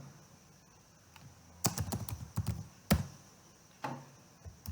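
Typing on a computer keyboard, quiet irregular clusters of key taps and clacks in short bursts after a near-silent start.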